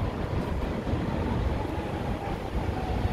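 Low continuous rumble of a train passing through downtown Chicago among tall buildings, dense and steady with city noise around it, no voices.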